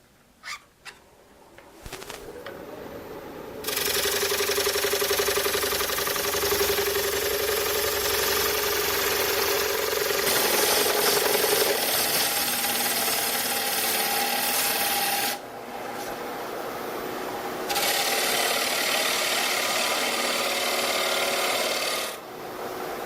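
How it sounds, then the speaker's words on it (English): A robust American Beauty woodturning lathe spins as the tool bites into the wood, giving a loud, steady rasping cut that starts a few seconds in, sustains, briefly eases, then resumes before dropping away near the end. "I can start my cut by looking at where the tool enters the work"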